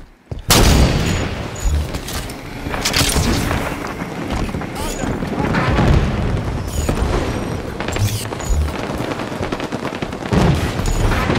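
In the Halo 5 video game, a grenade blast lands amid a firefight, heavy booms and crackling gunfire with game voices talking over the din.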